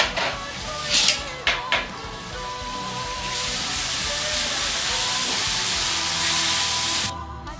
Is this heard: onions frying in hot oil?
yes